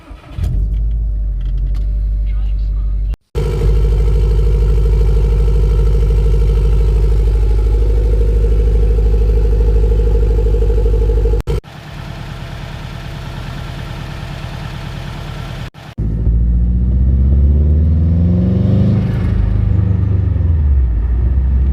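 A Subaru STI turbo car with its blow-off valve spring tightened fully, driven on a test run; a loud, steady engine drone with brief cut-offs around gear changes, then revving that rises and falls near the end.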